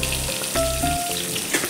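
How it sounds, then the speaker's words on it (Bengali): Fish sizzles steadily in hot oil in a pan, a close, continuous frying hiss with a few faint clinks and no talking. "তো মাছটাকে ভেজে ফেলবো আমি খুব তাড়াতাড়ি।"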